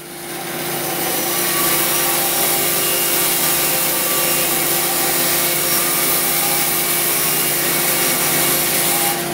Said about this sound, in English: Some of the timber we bought in required ripping down the middle to get it to the right thickness